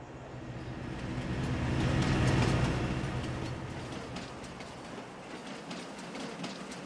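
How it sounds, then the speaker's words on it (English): A train hauling grain cars in Farming Simulator 22 rumbles past with rhythmic clickety-clack, swelling louder toward the middle and fading away, with no talking. "we can rent the train for an hour right here"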